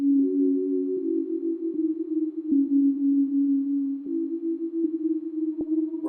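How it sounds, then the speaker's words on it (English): Synth pad for a chill trap beat, a sustained steady tone with subtle filter movement and small stepped pitch shifts, clean and alone with no talk. "I added a filter and a reverse filter on it"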